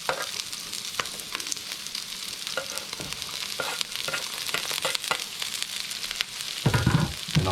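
Coarsely chopped red onion and about five cloves of garlic frying in leftover oil for pork giniling, a crackling sizzle with scattered spatula taps and scrapes, growing busier near the end.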